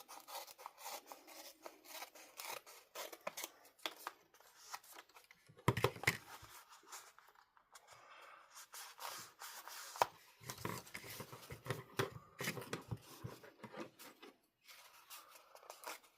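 Scissors snip and rasp their way around the edge of an index card, with short, close cutting strokes in irregular bursts and brief pauses between them.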